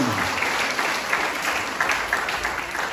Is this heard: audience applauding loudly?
yes